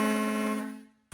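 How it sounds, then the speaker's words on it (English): The horn of the Virginia Dare cruise boat on Smith Mountain Lake sounds one loud, steady, tonal blast lasting about a second, then fades out. "It'll more than likely honk its horn back to you."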